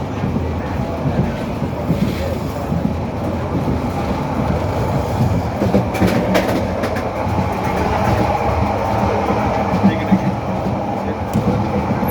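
Passenger train rolling along, heard from inside a chair car: a steady, loud rumble with rhythmic clickety-clack of wheels over rail joints throughout, plus some faint background voices.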